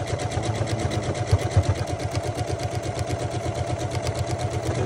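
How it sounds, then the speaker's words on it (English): A sewing machine stitches a buttonhole, running at a steady, even mechanical rhythm of fast repeating needle strokes, close and continuous with no talking. "And we are going to do a buttonhole."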